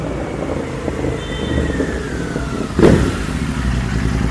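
A motorcycle approaches with a steady engine drone and a slowly gliding tone, moderately loud, ending in a brief clattering rumble as it draws near, with no talking.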